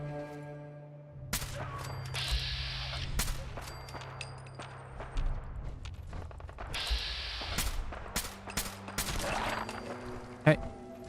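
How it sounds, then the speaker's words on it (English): Rapid bursts of Fallout 4 video game gunfire crackle repeatedly at moderate distance, with sharp bangs and mechanical clicks over a low steady hum. "Yeah, I can hear the gunfire still going on."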